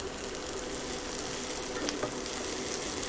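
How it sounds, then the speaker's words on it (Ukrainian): Onion frying in oil in a pan, a steady close hiss of sizzling throughout with faint stirring clicks and no talking. "Та обсмажую цибулю."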